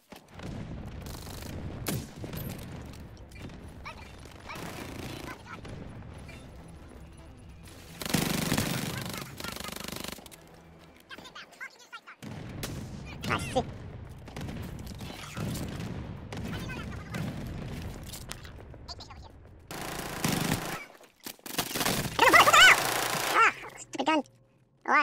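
Bursts of rapid gunfire and sharp sniper shots ring out in a video game firefight, coming in loud clusters separated by quieter gaps, with voices talking over parts of the action.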